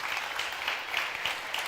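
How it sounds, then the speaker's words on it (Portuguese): A church audience claps steadily in a brief, moderately quiet round of applause for the new owners of a Bible. "eu vou pedir que você dê uma salva de palmas para os novos proprietários"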